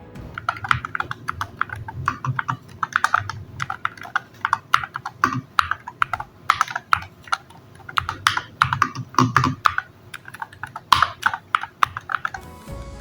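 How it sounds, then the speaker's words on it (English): Rapid, steady typing on an Attack Shark R85HE mechanical keyboard, close up, with crisp clacky keystrokes in bursts and brief pauses, no talking. "Let's do a quick typing test to hear how it actually sounds."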